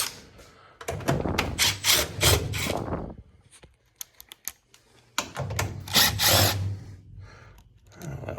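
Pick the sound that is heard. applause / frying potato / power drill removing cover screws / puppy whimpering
power drill removing cover screws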